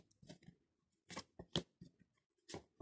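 Tarot cards, a Rider-Waite deck, being shuffled and spread out, giving a series of quiet papery riffles and slaps in short separate bursts, with no talking.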